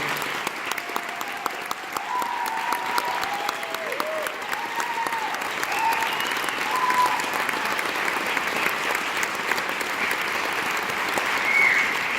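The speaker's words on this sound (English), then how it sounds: "Can you give them a round of applause?" An audience claps for a school wind ensemble's students, steady, even applause filling the room throughout with faint voices and a few whistles or calls above it.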